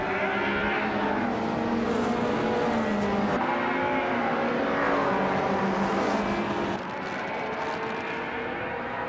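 Several race cars in a driving game launch off the line, led by a 1985 Lancia Delta S4, their engines droning and revving together in a loud sustained roar with shifting pitch and no voices.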